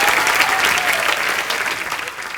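Studio audience applause on a comedy talk show greeting actor Paresh Rawal, a loud, dense burst of clapping that holds steady and then tapers slightly.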